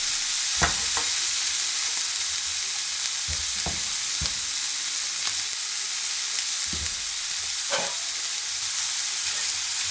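Shallot frying in a pan beside browned pork paupiettes, a loud, steady close sizzle with several sharp scraping knocks as a utensil stirs it; no talk.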